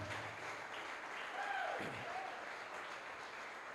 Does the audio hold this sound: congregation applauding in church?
yes